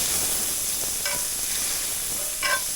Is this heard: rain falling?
no